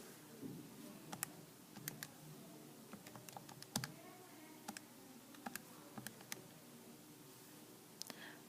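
Someone typing a calculation on a computer keyboard, with irregular close key taps and clicks, some in quick bursts and some spaced out, over a steady background hiss and no speech.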